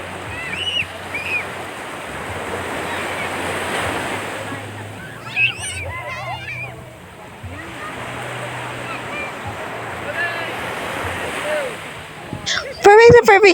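Ocean surf at Pundaquit beach in Zambales, a steady wash of breaking waves rolling on throughout, with people's voices and splashes heard over it now and then.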